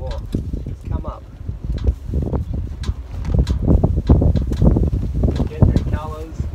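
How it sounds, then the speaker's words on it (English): Strong gusty wind buffets the microphone outdoors beside a river, a continuous low roar that swells and eases throughout, with faint bird calls mixed into the rush. "I did not think it was going to be this windy"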